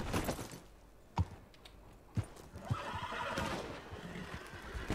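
A horse in Red Dead Redemption whinnies amid game sounds, with a few sharp thuds and hoof-like knocks over a steady background, then a busier stretch of ambient noise.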